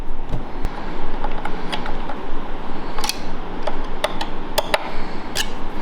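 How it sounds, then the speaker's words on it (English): Small 2mm hex screws being tightened from the top on a Festool track saw give scattered light metallic ticks and clicks over a quiet room hum, irregular and close. "when you're tightening these little 2mm hexes from the top"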